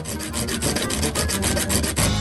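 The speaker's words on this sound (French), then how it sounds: "Une scie, c'est beaucoup mieux." A hand saw rasps back and forth through material in quick, regular strokes, loud and close, with no voices.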